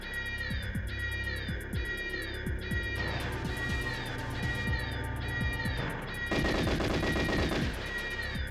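Rapid automatic gunfire bursts from the GoldenEye video game, loud and continuous, with repeated shots layered over game music and electronic tones throughout.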